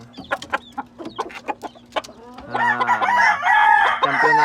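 Fighting rooster crowing loudly and close, with clucking and several calls from other gamecocks readied for a match, in a short burst over a farmyard background.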